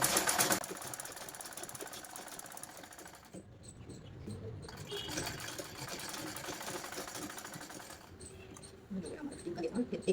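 A sewing machine stitches a blouse in short bursts, its rapid mechanical whirring starting and stopping with pauses between runs, fairly quiet and close, with no talking.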